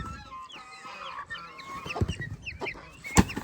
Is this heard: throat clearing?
no